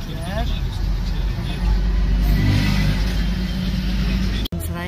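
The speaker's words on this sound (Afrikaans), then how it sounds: "Mbeya in Tanzanië is die verkeer." Steady road traffic in Mbeya, Tanzania, with car and bus engines rumbling and a vehicle revving close by, heard continuously under people talking.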